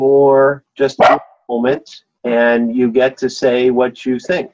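A Labradoodle gives a short, sharp bark during an indoor interview, partly overlapping the conversation. A person speaks in continuous phrases before and after it, and the bark sounds close.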